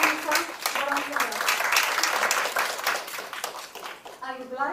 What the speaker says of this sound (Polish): Pana Rafała, gorące brawa